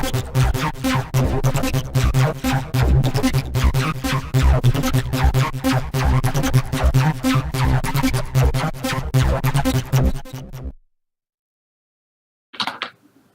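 Simple synth sequencer with stereo delay built in Unreal Engine 4, playing a dense, rapid stream of plucky repeating notes with echoes, loud and continuous until it stops abruptly, followed by a brief faint burst.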